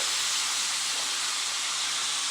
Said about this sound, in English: I'm gonna not release the pressure naturally by putting a tea towel over and venting the steam